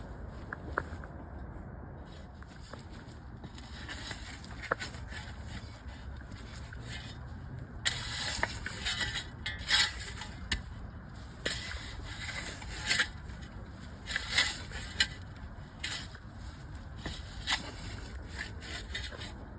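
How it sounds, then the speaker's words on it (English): A shovel scrapes and rasps through garden dirt while burying freshly cut fig sticks laid in the ground, giving repeated close gritty scrapes with sharper bursts partway through and no talk. "I'm going to take a shovel and cover them up"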